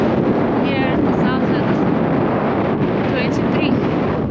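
Heavy wind buffets the microphone continuously at night near an erupting volcano in Guatemala, a loud broadband roar with a few faint tones rising above it.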